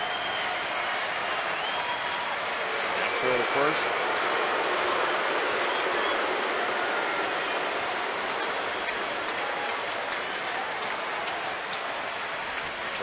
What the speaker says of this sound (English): Crowd really into it tonight.